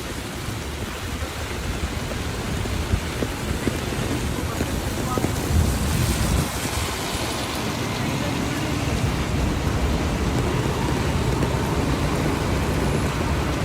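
Steady rain in Midtown Manhattan on a cold day, a dense constant hiss blended with city traffic rumble, continuous and fairly loud throughout.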